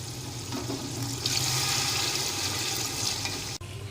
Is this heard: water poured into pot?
yes